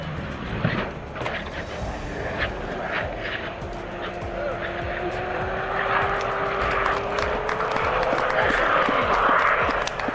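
A propeller airplane drones overhead, its engine tone sliding slowly lower as it passes, with a steady rumbling background.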